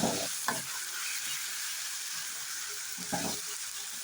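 Chili paste goes into a hot frying pan and is stirred, giving a continuous loud sizzle with a few scraping stirs of the spatula near the start and again toward the end. No one talks.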